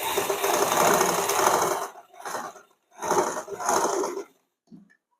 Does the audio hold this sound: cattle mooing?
no